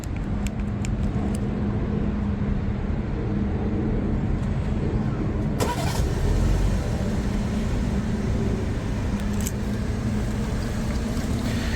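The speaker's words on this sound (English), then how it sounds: "You can triple click the lock button to remotely start the engine." A 2025 BMW 3 Series 330 engine remote-starts and settles into a steady, fairly loud idle, heard from nearby with faint clicks and handling noises over the continuous hum.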